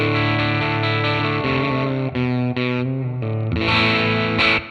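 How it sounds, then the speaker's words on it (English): An electric guitar plays through the Mooer GE250 multi-effects unit on its stock first patch, a distorted, chorused tone carrying sustained chords and notes that shift every second or so, loud and alone with no talking. "Here is the stock tone for the first patch."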